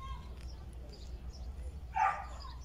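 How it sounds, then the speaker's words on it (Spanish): A neighbours' dog barks once from a distance, a short faint yap over low outdoor background noise in a home vegetable garden. "Escuchan al perrito desde aquel lado de los vecinos que se escucha."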